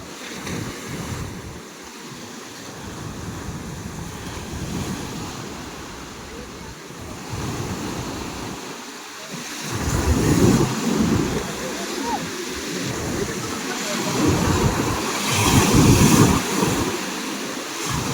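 Strong ocean surf at a beach resort in Tarnate, Cavite, with waves rolling and crashing in loud swells under gusty wind noise on the microphone.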